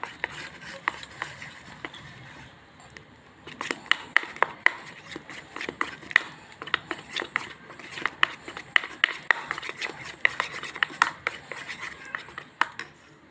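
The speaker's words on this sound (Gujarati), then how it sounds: "બહુ સરસ મજાનું હલાવી લેવાનું, જેથી કરીને અંદર ગઠ્ઠા ના રહે બેસનના" Hand-stirring a gram flour and maida batter for onion rings, with irregular close clinks and scrapes of a utensil against the bowl, quiet and continuous with no talk.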